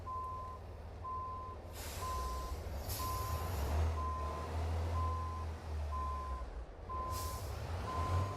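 Air brakes hiss on a truck that has run out of air pressure in a truck-driving game: several sharp bursts of released air over a steady low engine rumble and a regularly repeating reversing beep.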